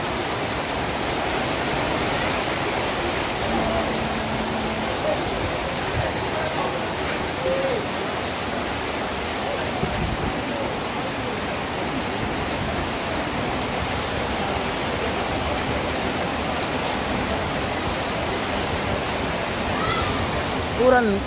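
Rain falls steadily during an outdoor Rambu Solo' funeral ceremony in Buntulepong, a dense, even hiss lasting throughout, with voices faintly beneath it.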